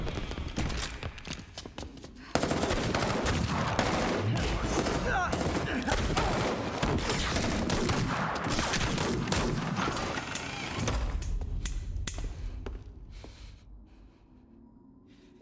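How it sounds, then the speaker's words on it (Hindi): Heavy, sustained gunfire in Marvel's Spider-Man erupts after a couple of seconds into a dense barrage of rapid shots for nearly ten seconds, then thins and fades, with voices and game sounds mixed in. "यूरी को शायद गोलियां लगी है"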